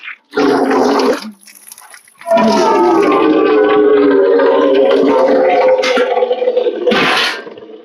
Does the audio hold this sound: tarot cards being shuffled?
no